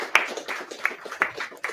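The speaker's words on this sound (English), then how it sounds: "Let's have applause for Bastian" A small audience at a Python meetup claps for a speaker, a handful of sharp, separate claps in an uneven rhythm, close and moderately loud, with faint talk beneath.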